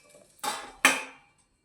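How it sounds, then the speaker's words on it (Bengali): A metal lid lifted off a pot used to bake an eggless fruit sponge cake gives two sharp clanks about half a second apart, each ringing briefly and fading, with nothing else around them. "এবারে আমরা ঢাকাটা খুলে দেখে নেব"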